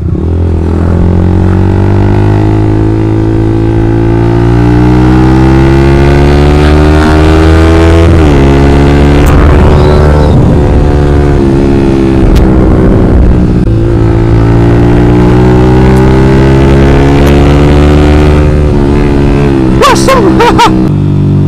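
A modified Yamaha Vixion motorcycle with an aftermarket exhaust, heard up close while riding, a loud continuous engine drone that climbs and falls in pitch with throttle and gear changes.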